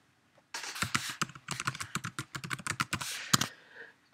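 Password being typed on a computer keyboard, a quick irregular run of close, crisp key clicks lasting about three seconds, alone and without talk.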